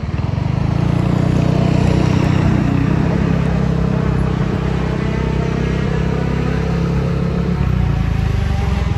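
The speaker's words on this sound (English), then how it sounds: "it's go-kart racing. Really, really fast go-kart racing." Fast racing go-karts lapping a circuit during a practice day in Thailand, a loud, continuous buzzing engine drone with steady revving that holds nearly unchanged before easing slightly near the end.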